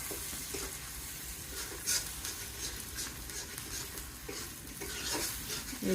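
Duck curry with spices and potatoes being sautéed in a pan in a Bangladeshi village kitchen, a steady sizzle with scraping stirs and an occasional clink of the utensil against the pan.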